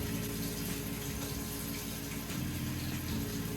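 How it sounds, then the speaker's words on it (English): Warm water runs steadily from a tap into a sink, a continuous broadband wash with a low pump-like hum underneath, close and unbroken throughout. "So I'm gonna get some warm water up in here."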